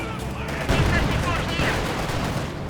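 Dense gunfire and explosions from a battle in the video game Company of Heroes 2 form a loud, continuous clatter of rapid shots and booms. A voice talks over the fighting.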